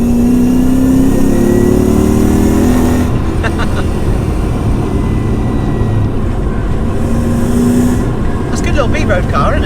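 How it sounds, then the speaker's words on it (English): Lexus IS200 with a swapped 1UZ-FE V8, revving loud and close, climbing and falling in pitch across several pulls with strong engine rumble throughout. "God, I love the sound of a V8."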